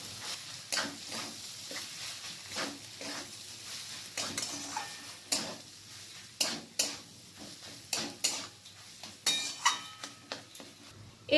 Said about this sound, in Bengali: আমি এখানে ম্যাশ করা আলুটা দিয়ে দিচ্ছি। তারপর আবার ভালো করে মিশিয়ে নেব।